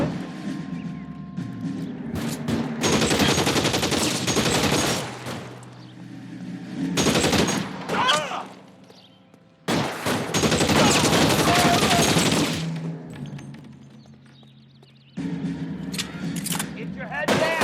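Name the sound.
gunfire in the video game L.A. Noire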